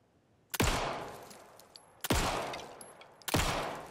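Three loud, sharp gunshots fired in Alan Wake 2, spaced over about three seconds, each a crisp crack followed by a short decaying echo.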